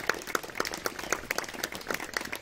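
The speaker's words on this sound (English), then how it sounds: "So Betsy Fair and Kay Cole, let's give them a round of applause" A church congregation gives a round of applause at a Sunday service: a soft, steady patter of many hands clapping together, fairly quiet and diffuse, with no talking over it.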